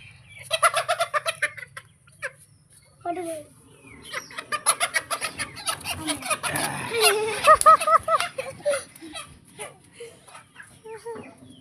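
A chicken caught in a cage clucks and squawks in quick, irregular bursts close by, with a few rooster-like calls and some quiet talking in the background.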